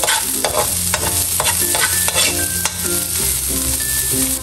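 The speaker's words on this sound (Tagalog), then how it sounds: "Magigisa na po ako ng ricado, ng bawang at sibuyas." Garlic and onion sautéing in a pan, with a loud, continuous sizzle close by and rhythmic scraping as they are stirred, in preparation for cooking crab.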